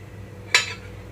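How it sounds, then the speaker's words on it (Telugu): A cooking pan set down on a home kitchen stove to heat oil for tempering a cabbage tomato chutney, giving one short metallic clink near the middle, close and fairly clear over a quiet room. "తాలింపు కోసం పాన్ పెట్టుకుంటున్నాను."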